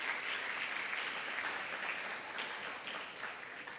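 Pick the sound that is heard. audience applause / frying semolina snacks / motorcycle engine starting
audience applause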